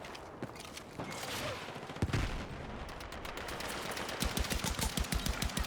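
Gunfire in Metal Gear Solid: a few scattered single shots give way to a rapid, rhythmic burst of automatic fire that builds to a sustained rattling volley, fairly loud and with no talk.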